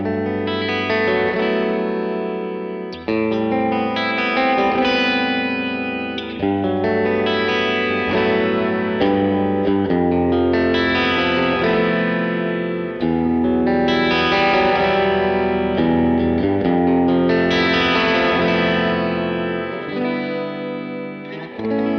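An electric guitar played through a Boss RV-200 reverb pedal with the wet blend pulled back plays sustained, shimmering chords in repeated phrases, with a lingering reverb tail behind each strum and no voices.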